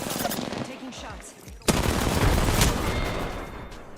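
Rapid automatic gunfire bursts in a shooter video game, loud and sustained with one sharp blast midway, as a voice talks underneath.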